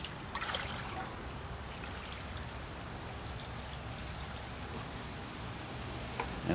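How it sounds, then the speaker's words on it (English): Liquid pours and trickles steadily into a container, a continuous soft splashing with a slightly stronger burst near the start. "And one last pour quick to get everything out into the container."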